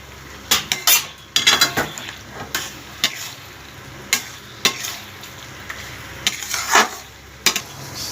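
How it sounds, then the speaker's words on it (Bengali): Pointed gourd (potol) pieces being stirred in a pan with spiced masala, a utensil scraping and clinking against the metal in irregular bursts over a low sizzle, close and fairly loud, no voices. "এর মধ্যে পটলগুলো দিয়ে দিতে হবে দিয়ে মিশিয়ে নিতে হবে"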